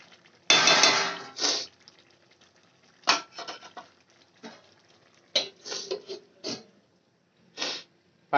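Pot of methi chicken being covered with its lid while cooking: a loud metallic clatter, then several shorter knocks and scrapes at irregular intervals, close by with no talking.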